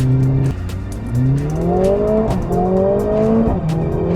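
A Mercedes-AMG A45 S's M139 four-cylinder engine revs hard and climbs through the gears, loud and close, with brief dips between each rising pull.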